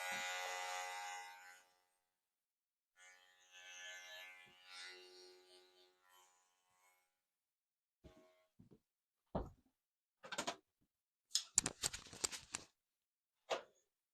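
Electric hair clippers cutting a short men's fade at a barber's: a faint steady buzz at first, then scattered short buzzing bursts separated by quiet gaps, with no talking.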